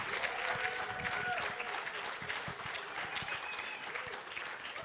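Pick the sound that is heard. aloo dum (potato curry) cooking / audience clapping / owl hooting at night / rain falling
audience clapping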